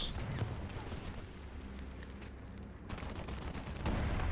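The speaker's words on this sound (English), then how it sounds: "That gunfire flowing over us." Gunfire rattles in War Thunder tank combat, with bursts of shots and booms over a constant rumbling engine drone, some volleys sounding close and others more distant.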